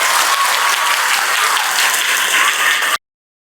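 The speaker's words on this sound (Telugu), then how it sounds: "మన క్లాప్ చూడితే దద్దరిల్లి పడదు స్టార్ట్ ద క్లాప్" Hostel students give a dense, loud burst of applause while wishing Chief Minister Revanth Reddy a happy birthday, sustained for about three seconds before cutting off abruptly into silence.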